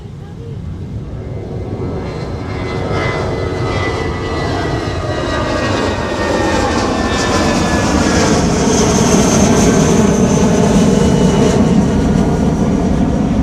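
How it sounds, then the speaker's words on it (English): An American Airlines jet takes off at MSP airport with a loud, steadily building engine roar that swells and holds, close and dominant, with faint voices underneath. "here's American Airlines 2140 off to Charlotte"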